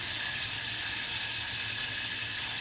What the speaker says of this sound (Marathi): मोहरी पण चांगली तडतड झाली.